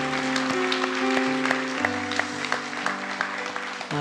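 A congregation claps in praise during a Sunday worship service, a steady wash of applause over sustained organ or keyboard chords, with a held note shifting lower partway through.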